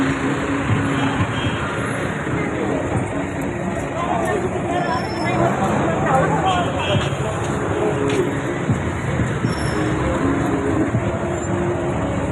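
A busy Manila street, heard while walking toward Santa Cruz Church, carries a steady wash of nearby cars and buses. A person talks over the traffic throughout.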